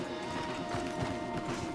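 Horse hooves clip-clop steadily on a path in the Red Dead Redemption 2 video game, a fairly loud, even rhythm of several horses walking close by, with no talk over it.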